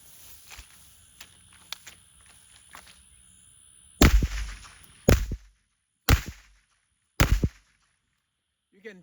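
Taurus RPC pistol-caliber carbine firing Aguila 124 grain rounds, four sharp loud gunshots spaced about a second apart after quieter handling clicks and faint talk.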